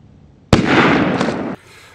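A gunshot fired at a range into bulletproof composite fabric: one sharp, loud burst followed by about a second of dense, sustained noise that cuts off abruptly.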